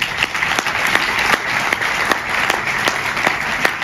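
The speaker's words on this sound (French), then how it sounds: "vous pouvez aussi les applaudir très fort" Sustained applause from an audience at an economic awards ceremony in Val d'Europe, France, many hands clapping steadily with sharper individual claps standing out.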